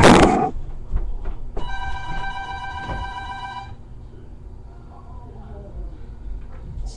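A telephone bell rings in a steady burst of repeated trilling tones lasting about two seconds, loud and close, then stops, with indoor room noise around it.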